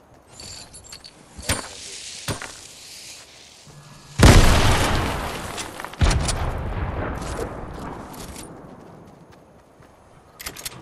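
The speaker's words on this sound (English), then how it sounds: "threw a grenade all the way over there" A grenade going off in Fortnite, a loud sudden boom followed by a second blast and a long rumbling decay, preceded by scattered clicks and small impacts, with no talking.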